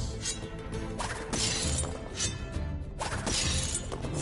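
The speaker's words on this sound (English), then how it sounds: "Pane glass." A glass pane shattering in Skylanders Superchargers, with repeated bright crashing breaks and tinkling shards in several loud bursts, sitting over a steady game background with no talk.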